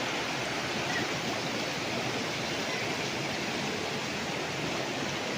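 A river flowing beside a farm lot in Liliw, Laguna: a steady, broadband rush of water holding constant throughout, fairly close and even, with no voices.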